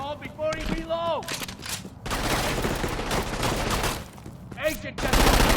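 Sustained bursts of gunfire from the video game Crackdown 2, loud and continuous from about the two-second mark, with a raised voice shouting at the start and again near the end.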